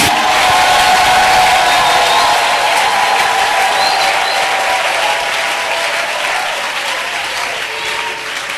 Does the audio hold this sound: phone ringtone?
no